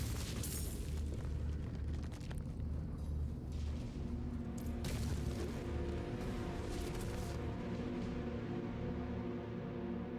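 Bone Corpse Explosion skill effects in a video game: a quiet run of booming bursts, several crackling pops clustered early and midway, fading into a low, humming rumble.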